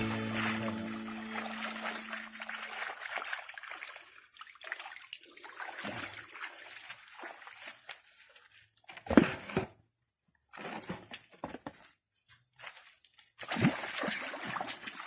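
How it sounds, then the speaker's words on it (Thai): Close splashing and sloshing water as fruit is rinsed by hand in a stream, with the steady flowing stream behind and brief quieter pauses. "ล้างในลำธารเลยนะ"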